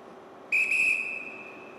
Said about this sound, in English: the only weapon at her disposal is her whistle